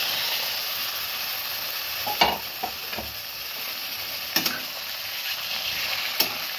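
Marinated chicken fries with lightly browned onions in a pan, a steady loud sizzle running throughout while a utensil stirs with a few scraping knocks, and no one speaks.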